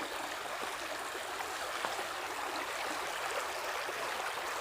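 A forest stream flowing over and around rocks gives a steady, broad rushing wash, constant and fairly close, with no voices or other sounds on top.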